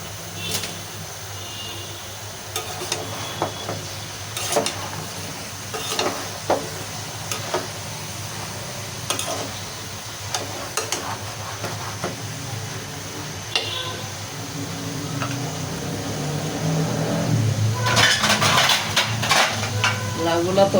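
Bottle gourd and long beans fry in a pan while being stirred, with repeated scraping clacks of the spoon over a soft sizzle that grows louder and busier toward the end.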